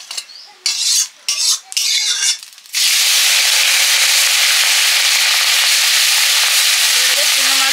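Small fish frying in a pan, a loud, steady, close sizzle that starts abruptly after a few brief scraping handling sounds and keeps going to the end.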